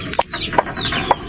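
Clucking from breeding chickens on a Filipino hatching farm, three short close calls spaced about half a second apart over a low murmur of background noise.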